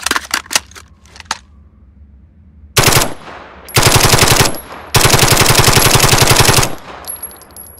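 An M4A1 rifle game sound effect: a few single shots, then three long bursts of rapid automatic fire, loud and close, with short gaps between bursts.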